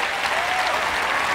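A large audience at an Elon Musk presentation on rocket travel claps steadily and loudly after a rocket landings announcement, a dense, even wash of applause with no break.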